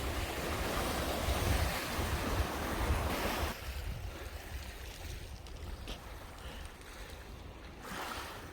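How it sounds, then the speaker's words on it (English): Waves wash steadily against a rocky Lake Superior shore on Minnesota's North Shore, with wind buffeting the microphone, louder at first and then settling into a softer, continuous surf. "sit and listen to the waves all day long"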